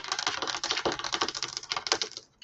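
Rapid clattering keystrokes on a computer keyboard, a steady close burst of typing with no voices.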